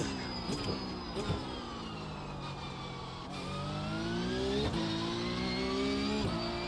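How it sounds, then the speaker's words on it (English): Porsche race car engine in a racing video game, a steady near engine drone that climbs in pitch with several gear-shift dips and rises, loudness building slightly toward the end, with no talk over it. "Racing against professional official Porsche driver in a Porsche."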